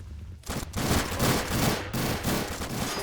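A machine gun fires without a break in the video game Army Men: Plastic Wars. The burst is loud and continuous, with one short dip near the start, and no voices over it.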